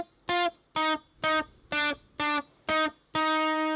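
Electric guitar tapping on the third string, from a guitar solo: seven clean, evenly spaced tapped notes in a steady pulse, the last one ringing out. Close, bright and alone, with no talking.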